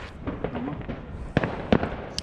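Flashbang firework exploding on New Year's Eve, two sharp, loud bangs in quick succession over a crackling, noisy outdoor background.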